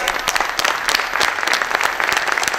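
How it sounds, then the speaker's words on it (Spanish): Dense applause from a church congregation, a steady burst of many hands clapping at once, loud and close. "Demos un fuerte aplauso a nuestra Santa Madre"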